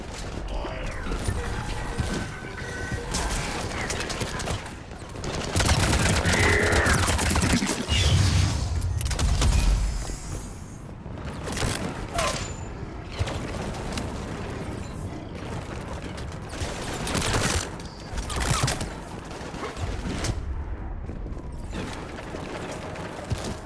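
Sustained gunfire in a Mass Effect 3 firefight on planet Thessia, dense crackling bursts and mechanical clatter running throughout, loud and continuous with brief pauses.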